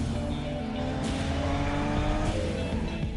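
A Lexus IS 350 sedan drives hard in a commercial, its engine droning steadily with rising revs and a brief tire squeal, loud and continuous over backing sound.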